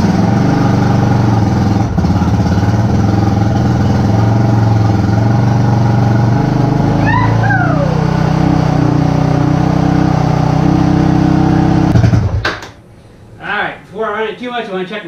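The engine of a Warrior runs on full choke, holding a loud, steady idle with a deep throb for about twelve seconds before cutting off abruptly, followed by a person speaking in the quiet.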